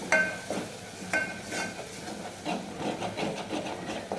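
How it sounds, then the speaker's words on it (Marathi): Coriander powder and asafoetida masala frying in a pan, a soft steady sizzle with a few sharper scrapes and stirring clicks near the start, close and moderately quiet. "अर्धा चम्मच धना पावडर आणि थोडासा हिंग पाव आता हा मसाला छान मी तळून घेते"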